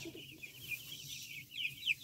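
Chickens cluck softly in a chicken tractor on a farm holding about 75 birds, a faint scatter of short calls over low background noise.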